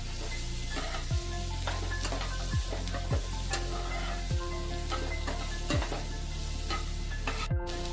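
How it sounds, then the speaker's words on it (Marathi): Capsicum and corn sautéing in butter in a pan for a white sauce pasta, with a steady close sizzle and a spatula scraping the pan in regular strokes roughly every half second. "आणि ही शिमला मिरची थोड्याशा 2च मिनिटं परतून घेणार आहे बटरवर"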